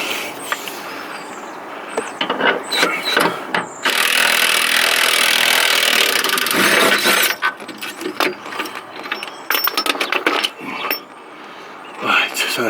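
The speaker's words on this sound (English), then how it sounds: "We missed 2 bolts, so get them undone now." Bolts undone on a rusty Ford rear sub-frame: a long grinding, rasping stretch of tool noise amid clanks and scrapes, loud and close, with occasional talk.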